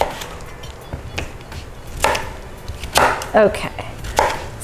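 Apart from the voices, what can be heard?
knife chopping potatoes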